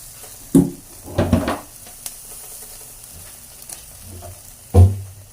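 Barbecue pork on a grill, a continuous soft sizzle broken by a few sharp knocks and scraping clatters of the meat or tongs being moved, close by, with no voices.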